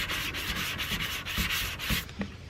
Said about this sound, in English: I'm just sanding this area and not really going over the other panel